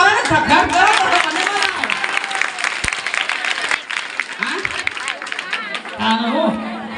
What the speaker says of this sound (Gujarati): એ તાળીઓ થોડી પાડો ને ખખડાટ કરો